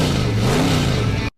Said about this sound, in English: McQueen starts his engine with very badass rock music playing in the background